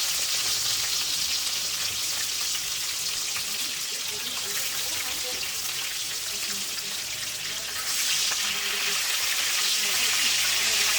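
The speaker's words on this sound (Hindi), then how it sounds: "अब जो कबाब कुक हो रहे हैं उनको मैं साइड पे करती जा रही हूँ, ताकि उनका भी जो एक्सेस ऑयल है वो साथ साथ निकलता जाए।" Chapli kebabs frying in a pan of oil, a steady close hiss and sizzle running unbroken throughout with a slight dip near the end.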